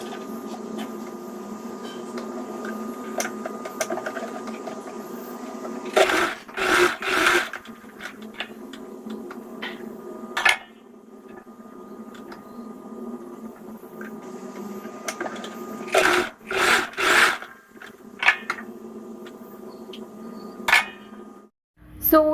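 A sewing machine runs in several short bursts while stitching the shoulder seam joining the front and back of a two-dart blouse, with quieter handling sounds between the bursts.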